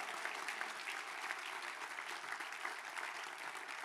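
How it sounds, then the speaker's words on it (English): A concert audience claps together in a dense, sustained round of applause, steady and even throughout, heard from within the crowd. "let's give the Lord a big clap,"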